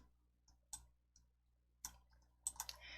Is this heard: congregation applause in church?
no